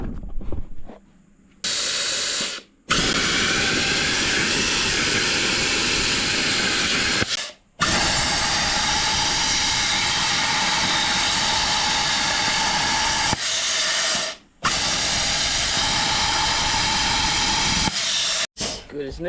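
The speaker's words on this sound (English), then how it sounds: "we're just gonna take the plasma cutter," A plasma cutter slices through trailer metal in several long bursts of harsh, loud hissing, separated by short pauses, each cut lasting a few seconds and heard up close.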